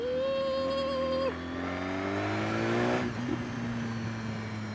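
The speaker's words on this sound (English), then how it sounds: "Bit of a whiny engine though." A 2016 BMW S 1000 RR superbike engine whines as it accelerates, the pitch climbing steadily through the gears, loud and close, then dropping back to a lower drone.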